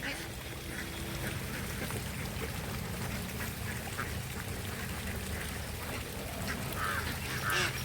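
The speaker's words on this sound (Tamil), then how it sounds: "அதுக்காக தான் எல்லா வயல்லையும் வாத்து வைப்பாங்க." Ducks grazing in rural paddy fields quack in a dense, continuous flock chorus, with sharper calls standing out near the end.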